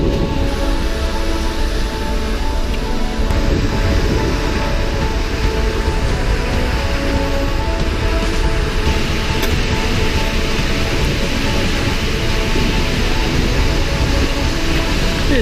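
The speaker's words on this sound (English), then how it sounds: "So we're at our final waterfall." A waterfall thunders in a steady, loud, unbroken roar, heard from a misty spot behind the falling water, constant for about fifteen seconds with no voices.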